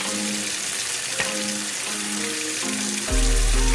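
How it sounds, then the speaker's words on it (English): Turkey wings in white vinegar and baking soda foaming up, a close, continuous fizzing hiss, broken near the end by a sudden low thump. "you're going to see that foam up just like that from the vinegar and the baking soda mix"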